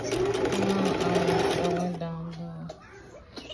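A sewing machine stitches organza skirt panels together, running steadily and close for about two seconds before slowing and stopping, with a faint voice underneath.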